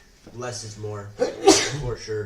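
A single sharp human sneeze bursts out midway through conversational talk on a live stream, loud and close, with speech continuing around it.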